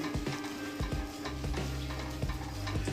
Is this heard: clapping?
no